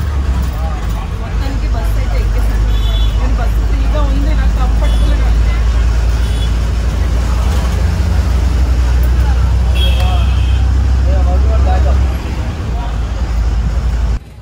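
Riding inside a moving free public bus carrying mostly women: a steady loud engine and road rumble throughout, with a chatter of passengers' voices underneath and a few brief squeaks and rattles.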